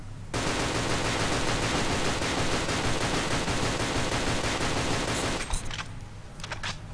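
An airsoft BB gun from the JK Happy Snow set shoots in a dense, loud stream of rapid cracks for about five seconds, followed by a few scattered clicks as it stops.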